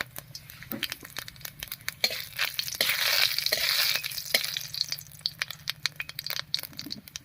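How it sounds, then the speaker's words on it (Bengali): Whole spices (a dried red chilli, whole garam masala and cumin seeds) frying in hot oil in a pan, giving a dense run of close crackling pops and spits that swells into a brief sizzling burst midway. "ফোড়নটা ভাজা হয়ে গেছে"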